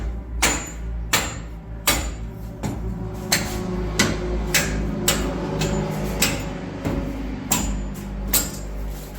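A hammer strikes a bolt on a 1946 Chevy truck during front spindle and hub work, about a dozen sharp metallic blows at irregular intervals, close and loud, with faint background noise between them.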